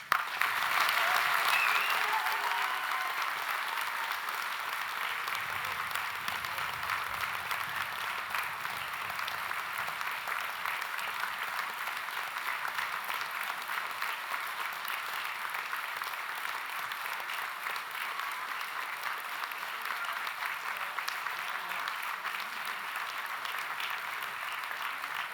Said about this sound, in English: That's a lot of applause, but not yet a single award.